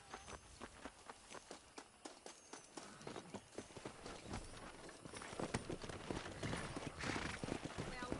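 Horse hooves in Red Dead Redemption, a steady clip-clop that quickens into a running gallop and grows louder, with people talking over it.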